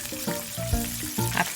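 Battered dried pollock deep-frying in plenty of cooking oil in a pan, a close, bubbly crackling sizzle with steady popping throughout.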